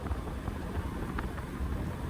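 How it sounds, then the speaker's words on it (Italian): Strong wind gusting across the Wicklow Mountains in Ireland, a steady low rumbling roar buffeting the microphone, loud and continuous with no talk. "Purtroppo qui il vento forte,"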